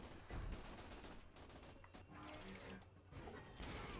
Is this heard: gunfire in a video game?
yes